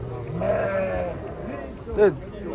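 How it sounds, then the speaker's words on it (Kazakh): Sheep bleat at a busy livestock market, with a drawn-out bleat early and a sharper one near the end, heard under people talking and general market noise. "Қошқор да бар екен, қойлар да бар екен."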